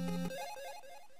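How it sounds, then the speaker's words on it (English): A phone sounds notification alerts: a few short electronic chime tones that step downward, close and clear, over a brief low tone at the start, with no talking. "That's just my phone."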